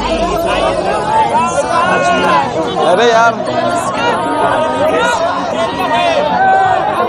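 Dense crowd chatter and hubbub at Ranchi Oxygen Park, with a continuous babble of many voices close by and louder individual exclamations breaking through the background murmur.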